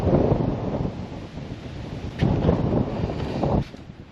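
Wind buffeting a microphone on a balcony, loud roaring gusts that swell and ease in uneven surges, with no voices.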